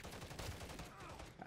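Rapid, continuous automatic fire from a Holger 556 assault rifle in the game Modern Warfare 3, a dense rattling burst of shots that is faint and partly masked by someone talking over it.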